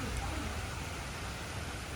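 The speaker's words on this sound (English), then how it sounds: "it's raining a little bit too hard" Heavy storm rain pours down as a dense, steady broadband hiss outdoors, a constant wash of water with low rumble underneath and no distinct individual drops.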